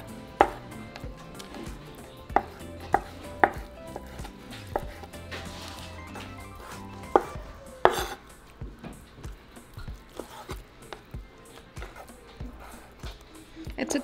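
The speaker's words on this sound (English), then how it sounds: "now we're just going to cut into small little cubes" A knife chops cooked beef tongue into small cubes on a board, with sharp, uneven knocks that come in scattered bursts, close and fairly loud, while a voice talks faintly underneath.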